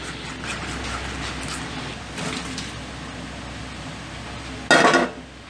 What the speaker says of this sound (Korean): 자, 그럼 소스 이거 섞어줄게요